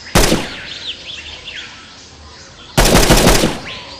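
Gunfire at a simulated target in the sci-fi shooter NOVA, with two loud rapid bursts of automatic fire separated by a pause, and chirpy electronic effects in between.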